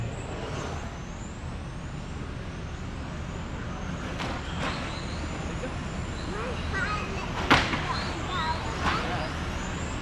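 Electric 25.5 touring class RC cars race around an indoor track with a constant whining motor drone and occasional sharp tire or contact spikes, under a race announcer's commentary.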